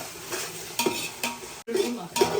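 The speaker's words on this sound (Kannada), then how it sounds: "ಶುಂಠಿ ಬೆಳ್ಳುಳ್ಳಿ ಪೇಸ್ಟ್ ಸ್ವಲ್ಪ ಹಸಿ ವಾಸನೆ ಹೋಗೋ ತನಕ ಫ್ರೈ ಮಾಡ್ಕೊಳ್ಳೋಣ" Ginger garlic paste frying in a pan for chicken basmati biryani, a close sizzle with spoon stirring strokes and a brief pause midway.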